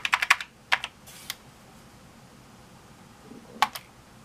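Keys clatter on the keyboard of a Briel Replica I, an Apple I clone, in quick clusters of clicks with gaps between, close and fairly loud.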